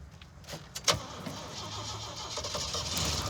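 An off-road AMC Pacer's engine cranks with a sharp click and catches, then settles into a steady, rising mid-pitched running note that fills the rest of the moment, close and fairly loud.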